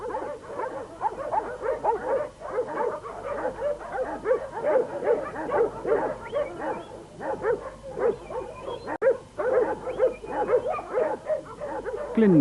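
Many working sheepdogs, huntaways and heading dogs, bark in chorus at a breeding kennel, a dense, continuous overlapping clamor of barks, yips and whimpers, fairly close.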